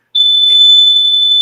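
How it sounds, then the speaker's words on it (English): A fire alarm in the Big Brother house lets out one loud, piercing electronic tone that starts suddenly and holds steady without a break. "The fire alarm got them."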